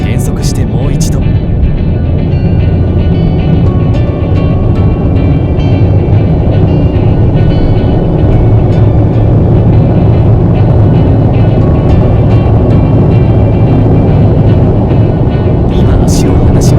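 Inside a Honda N-WGN Custom L turbo (JH3), a second highway acceleration run brings loud, continuous engine and road roar, with brief clicks near the start and end.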